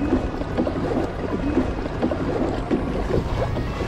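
Gusting wind buffets the microphone over a rumble of water against a small boat while fishing for snapper, continuous and fairly loud.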